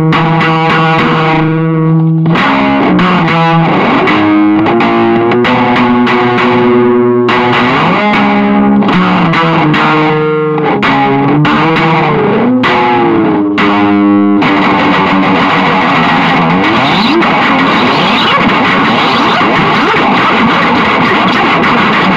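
A kitchen broom fitted with an elastic band is played through heavy distortion like a wailing electric guitar: loud sustained notes and bends for about fourteen seconds, then a dense, noisy feedback-like roar, with no talking.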